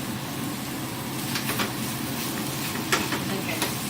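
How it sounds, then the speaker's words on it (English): Food with garlic being stirred in a hot frying pan, a steady close sizzle with a few light spoon scrapes and taps, constant and moderately loud. "And then I'm stirring it all together."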